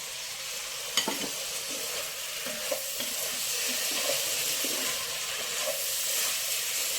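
Potato pieces sizzle in a hot pan for a mushroom mixed vegetable curry, a constant frying hiss with a spoon scraping and stirring in irregular clinks and scrapes.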